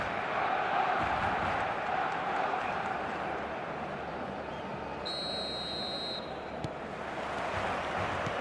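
Stadium crowd ambience in a football video game on match day, a steady broad roar of thousands of fans with a brief high whistle-like tone midway.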